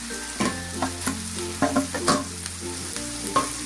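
Potatoes fry in a pan with softened tomato and onion while being stirred, giving a steady sizzle broken by repeated scraping stirs, close and moderately loud, with a brief word spoken.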